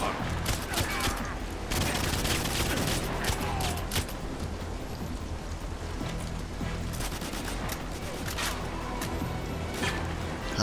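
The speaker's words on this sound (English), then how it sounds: "How are they shooting at me?" Enemy gunfire in GoldenEye 007 Reloaded on Xbox 360, a dense, continuous barrage of rapid shots and bursts that runs loud and steady through the whole stretch.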